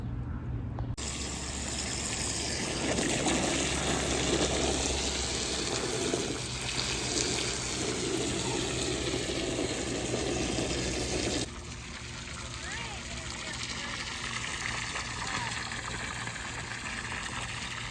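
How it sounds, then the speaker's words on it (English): Water gushes from a tap into a container, a loud, steady filling rush that changes pitch partway through as the level rises. "So now we're gonna fill it up with some water."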